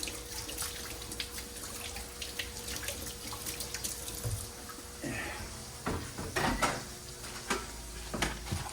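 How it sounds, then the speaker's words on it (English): Hands are washed under a running kitchen tap while plantains and beans cook nearby: uneven gushes and splashes of water into a sink, with faint clinks between bursts. "I go ahead and wash my hands before I touch anything else here."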